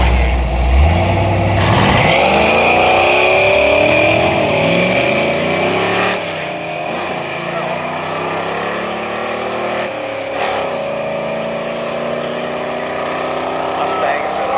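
A Ford Mustang notchback and a Chevy Camaro Z28 drag race at St Thomas Dragway, their engines roaring loud and close as they launch and pull hard down the strip, with the pitch climbing through gear changes while an announcer talks over them.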